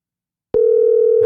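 A telephone dial tone cuts in abruptly after silence and holds as a steady, loud, continuous hum while a call is being placed.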